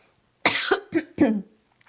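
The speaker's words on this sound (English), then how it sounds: "I was just about to say that and then I had to cough" A few sharp coughs in quick succession, close and loud, followed by quiet.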